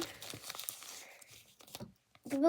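A small plastic surprise packet is torn open and crinkled, giving quiet, close crackling and tearing noises in short bursts with brief pauses between them.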